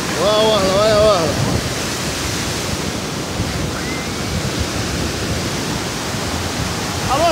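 Ocean waves wash steadily along the beach shoreline at Praia de Unamar in summer, a loud continuous surf roar, with brief voices near the start and end.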